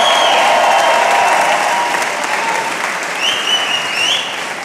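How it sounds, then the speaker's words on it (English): A crowd applauds two fighters after a three-round combat bout, loud steady clapping filling the hall with a few faint whistles or cheers on top, sustained throughout without fading. "Another big round of applause for these 2 fighters."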